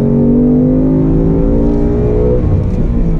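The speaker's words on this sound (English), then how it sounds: "Second gear, so I'm gonna accelerate a little bit on the brakes, tip it in" A 2019 Ford Mustang GT Performance Pack 2 with its V8 pulls hard in second gear, the engine note climbing steadily toward the redline. The roar is loud and close and continuous throughout, with no talking.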